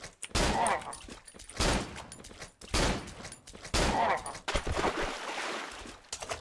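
Four loud gunshots from a firearm in the Cry of Fear video game, sharp cracks spaced about a second apart, each trailing into a reverberant tail.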